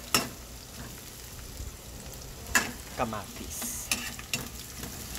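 Garlic and onion sauté in a pan with a low, constant sizzle broken by scattered scraping stirs and clacks of a utensil against the pan. A voice says a single brief word.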